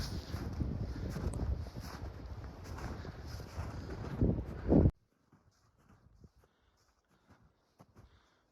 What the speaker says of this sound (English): The wind is coming and going